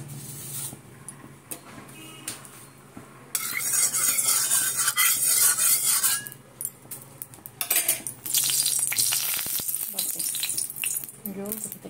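A metal spatula clatters and scrapes in a karahi-style wok while vegetable curry cooks for paneer rolls, with bright bursts of stirring and sizzling over a steady hiss, close and intermittent, and some talk nearby.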